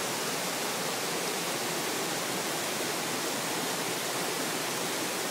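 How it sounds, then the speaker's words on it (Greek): Floodwater rushing down a river on the Lasithi Plateau in Crete, a loud, continuous broadband roar with no pauses and no voices. "Το ποτάμι αυτό βγαίνει εντελώς ξαφνικά όπως βλέπουμε."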